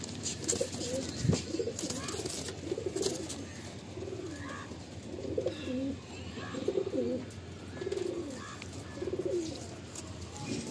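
Madrasi pigeons cooing in a loft, a series of soft, low, rolling coos repeating every second or so at close range over faint background noise.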